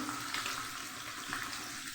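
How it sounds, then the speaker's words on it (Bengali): Bitter gourd frying in white oil with salt and turmeric gives a soft, steady sizzle with faint crackles, heard quietly for a couple of seconds with no talk. "একটু আমি হালকা করে করলাটাকে নুন হলুদ দিয়ে ভেজে নেব"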